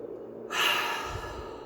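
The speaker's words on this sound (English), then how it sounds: "Big breath in." A single deep breath drawn in, taken during a guided tapping exercise: a soft, close, breathy inhale lasting about a second, followed by a gentle low release.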